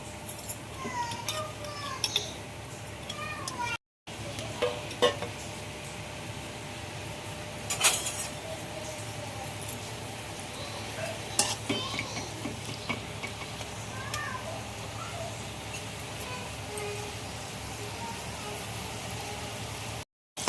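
Paneer cubes frying in a pan alongside a vegetable pulao of cauliflower, capsicum, carrot and beans, a steady close sizzle with stirring and occasional utensil clinks running throughout, broken by two brief gaps.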